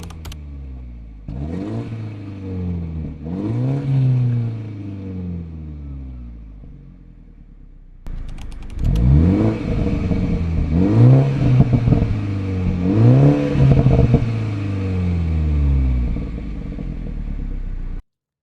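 A 2017 BMW F30 engine revs repeatedly, first a quieter series of rising and falling pulls in comfort mode, then a louder, rougher set of revs in sport mode with more exhaust bark.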